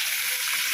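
Ground chutney paste sautéing in a hot pan, giving off a steady, bright sizzle with no talking over it.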